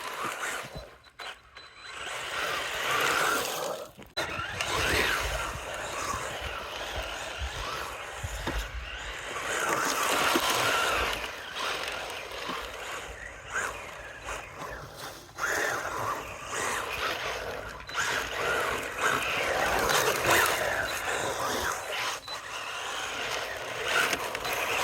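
A well-used, dirty Louise LRX 1/10 scale 4WD RC rally car, a kit-built model on a Carten T410 base, power slides with a whining electric motor and gritty scraping tires, rising and falling across the run with brief pauses.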